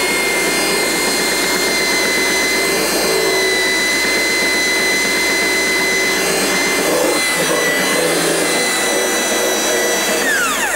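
Power sander with a roller attachment shaping a foam jig for fiberglass work, a loud, continuous high whine and grinding roar that holds steady with slight pitch shifts throughout, close to the listener.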